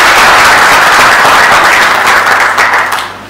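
Audience applause for a panel at a town hall event, loud dense clapping from a crowd that holds strong then tapers off toward the end.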